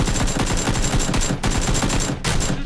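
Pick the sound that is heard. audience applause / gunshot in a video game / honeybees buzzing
gunshot in a video game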